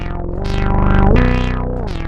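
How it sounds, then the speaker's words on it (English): A Moog Subsequent 37 synthesizer plays a buzzy, distorted sequence of notes with glide, each pitch sliding smoothly into the next, loud and unaccompanied. "Glide essentially lets notes slide to each other when you play them"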